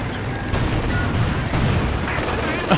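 In Company of Heroes 2, a tank's main cannon fires and S-mines detonate in a chain, loud overlapping explosive blasts with sharp jolts near the start and middle, filling the short stretch with heavy battle noise.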